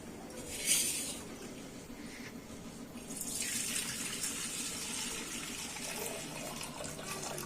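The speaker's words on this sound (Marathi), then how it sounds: "हे जास्तीचं पाणी आहे ते एका पातिल्यामध्ये काढून घेणार आहे" Excess water from cooked lentils being poured off into a pot in a home kitchen while making puran poli, a steady splashing stream that swells after a brief gush and runs on alone.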